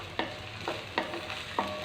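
Chopped onions and tomato frying in a hot pan for puffed rice oggarane, a quiet, steady sizzle broken by four short stirring scrapes, close and alone with no talking.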